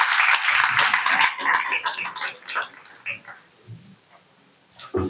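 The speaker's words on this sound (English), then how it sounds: "Please welcome Shri Arora with a big round of applause, everyone." Applause from an audience welcoming a speaker to the stage, loud at first and then thinning out over a few seconds, with scattered claps trailing off toward the end.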